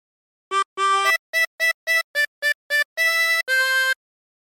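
Tremolo harmonica with 24 holes plays the short LWIAY theme phrase from PewDiePie, a run of clipped staccato notes followed by two longer held notes, clear and close with no talking.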